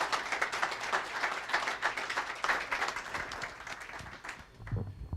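A panel presentation at a legislature update ends with sustained audience applause: dense, steady clapping from a crowd that holds for several seconds, then thins and fades out.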